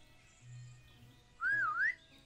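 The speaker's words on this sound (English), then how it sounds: "let's stand up and whistle" A character whistles in the video game SurrounDead, a short rising-and-falling tonal whistle around the middle of the clip, clear and fairly loud over a quiet background hum.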